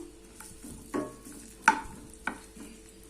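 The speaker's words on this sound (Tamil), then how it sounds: "பெரிய சைஸ் வெங்காயம் ஒன்று இந்த மாதிரி நீல வாக்கில் கட் பண்ணி வச்சுருக்கேன் அதை போட்டு நல்லா நம்ம வதக்கிக்கலாம்" A large onion cut into long slices sautéing in oil in a pan, with a soft steady sizzle broken by three or four sharp scrapes and clinks of stirring.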